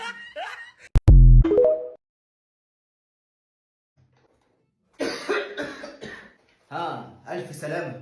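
A single harsh cough bursts out loud and close near the start, followed by silence and then speech-like voiced sounds and chuckling.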